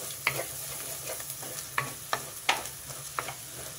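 Chili powder fries in hot oil for a gongura curry while a spoon stirs it, giving a steady soft sizzle with a few light scraping clicks against the pan, close and fairly quiet, with no voices.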